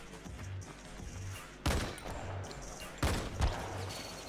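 Sniper rifle shots in Modern Combat 5: two sharp, loud cracks about a second and a half apart, each with a brief echoing tail, over a faint, repeating low background hum.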